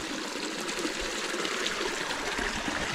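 A forest river flows at the bottom of a wooded slope, a steady broadband rush and trickle of water that stays faint and continuous, with no voices.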